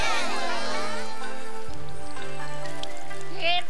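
Cartoon rain falls steadily as a soft pattering wash through a children's animated adventure scene, running under background music with a brief brighter splash near the end.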